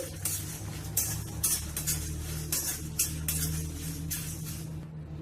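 Fenugreek seeds, mustard seeds and dried red chillies frying in a pan over a medium flame, a soft steady sizzle under repeated metallic clinks and scrapes of a spoon stirring against the pan.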